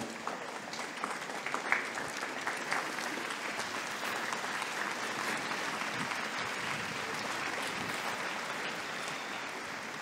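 Sustained applause from a large audience at a Catholic youth festival, steady and even throughout, a dense wash of many hands clapping with no break.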